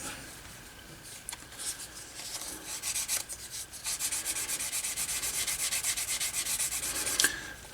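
Tokonol burnishing compound rubbed by hand onto the flesh side of leather for a bifold wallet, a steady close scraping and rubbing in quick repeated strokes that grows busier toward the end.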